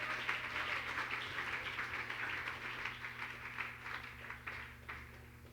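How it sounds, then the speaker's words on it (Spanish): A church congregation applauds during a sermon, a steady wash of many hands clapping at moderate distance with a faint low hum beneath, no voices standing out. "Dele aplauso al nombre de Jesús."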